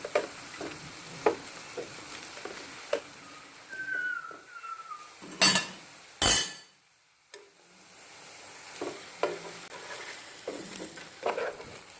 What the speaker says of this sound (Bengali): এটাকে উল্টিয়ে অপর পাশটাও যদি ভালো করে ফ্রাই করে নেন